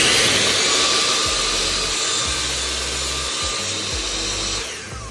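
A power tool runs loud and steady in a workshop with the dust collection system switched on, its broadband whine and rushing air holding for about five seconds before easing off at the end; no one speaks.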